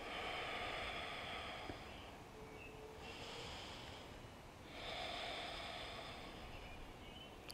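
Slow, deep nasal breathing during a yoga pose with arms raised, long airy inhales and exhales in a calm rhythm, close and quiet, with no talking.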